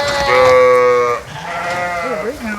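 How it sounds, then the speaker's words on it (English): Sheep bleating in a barn, several loud close wavering calls overlapping one another, with a lower bleat near the end over steady barn noise. "there's a sheep against that door"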